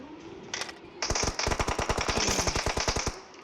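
Rapid automatic gunfire from a video game rattles out in dense, loud bursts. A couple of short volleys lead into a long continuous stream of shots.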